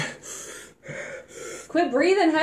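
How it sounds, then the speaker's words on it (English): Someone breathes heavily after eating a very spicy chip during a one-chip challenge, giving close, rough gasping breaths that grow louder toward the end and are mixed with voiced strain. "Quit breathing heavy."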